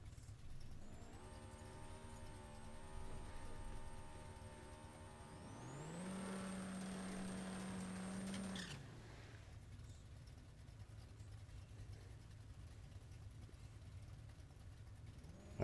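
Game race car engine from the No Limit 2 drag racing game: a steady idling drone climbs in a sharp rev around six seconds, holds a high strained pitch, then cuts off abruptly to a low rumble.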